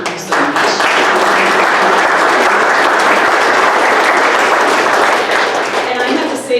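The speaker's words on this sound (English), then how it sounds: "One more round of applause." An audience at a conference gives a loud round of applause, dense continuous clapping close by that holds steady for several seconds before tapering off.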